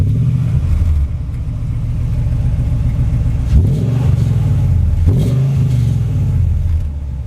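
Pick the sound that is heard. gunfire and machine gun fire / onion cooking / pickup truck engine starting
pickup truck engine starting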